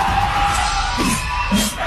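A large crowd at a public gathering for actor-politician Vijay roars with loud, sustained cheering and whooping that fills the space throughout.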